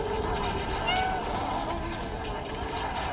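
A cat meows softly in the video game Stray, a faint mew or two heard under a steady background ambience.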